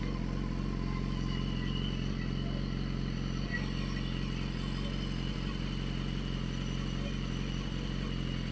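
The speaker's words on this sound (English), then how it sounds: "the Akrapovic on the HP4 reads around 89 decibels at idling" A BMW HP4 motorcycle fitted with an Akrapovic exhaust idles steadily close by, a constant low engine drone with no throttle changes and no talking.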